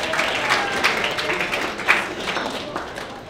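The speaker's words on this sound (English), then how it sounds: "So, round of applause for the backstage." Guests at a rehearsal dinner clapping together, a lively burst of close applause with scattered individual claps and faint crowd murmur, sustained and fairly loud throughout.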